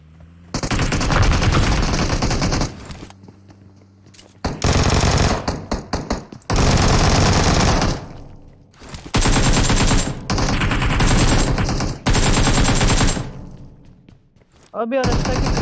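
Video game gunfire comes in loud, sustained automatic bursts, each several seconds long, separated by short lulls, with heavy close-range rattling and a speaking voice faintly audible between the bursts.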